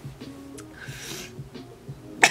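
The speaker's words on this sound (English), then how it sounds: "Apologize for the coughs" A person coughs a few times nearby, short raspy bursts spaced apart, ending with a sharper, louder cough.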